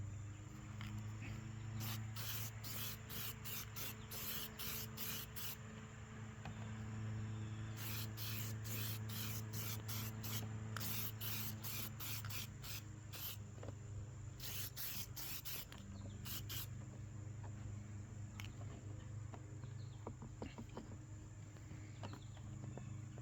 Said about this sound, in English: The spray paint is gonna be a lacquer, so it's gonna dry much quicker.